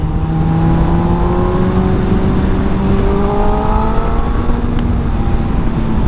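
A naked sport motorcycle's engine pulls hard while being ridden, its tone climbing in steady rising sweeps as it accelerates, loud and close against a constant rush of wind noise.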